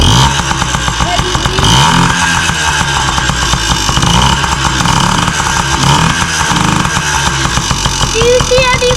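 A Yamaha PW50 mini motorcycle engine runs loud and close after an oil change, its buzzy two-stroke idle steady with small rises in revs throughout.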